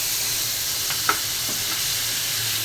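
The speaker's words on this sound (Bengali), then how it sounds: "কড়া করে পাঙ্গাস মাছ ভেজে নিচ্ছি" Pangas fish fries crisp in hot oil, a continuous loud sizzle and hiss filling the whole stretch, with a faint clink of a utensil partway through.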